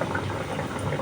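Chicken katsu hits hot frying oil, setting off a steady, dense sizzle and bubbling that stays fairly loud and continuous throughout.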